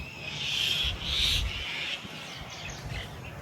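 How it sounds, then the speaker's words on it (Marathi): Birds calling outdoors in a garden with taro, chili, tomato, curry leaf and papaya plants under a rainy-looking sky, with bright repeated chirps over a steady outdoor hum. "आणि पक्ष्यांचा आवाज बघा कसा येतोय"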